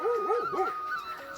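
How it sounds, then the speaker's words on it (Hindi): A dog yips and barks in a few quick, high, bouncy bursts. The calls are close and clear, with no talk over them, in a hilly outdoor setting. "और पीछे से कुत्ता भी भौंक रहा है इनके साथ।"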